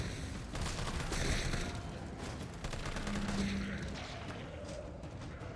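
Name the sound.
gunfire in Resident Evil 3 Remake video game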